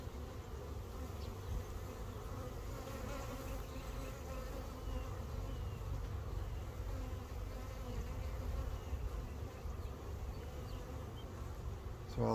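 Honey bees in an open hive with a populated honey super, giving a dense, continuous close buzzing drone that stays steady throughout with no voices.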